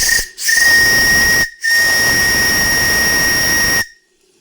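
A live steam model tugboat, the Resolve, fitted with a boosted JMC pump, vents steam to drop its pressure. A loud close hiss with a whistling edge cuts out twice briefly, then stops abruptly.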